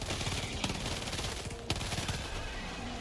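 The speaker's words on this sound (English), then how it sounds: "Machine pistol out here doing work." A machine pistol fires in Helldivers 2, a fast continuous stream of rapid gunshots, fairly quiet and dense, with a couple of sharper impact cracks standing out.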